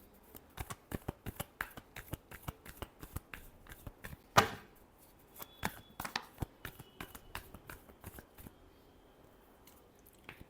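Tarot deck being shuffled by hand, a quiet run of soft, rapid card flicks and riffles with one sharper slap partway through, close and alone with no voice.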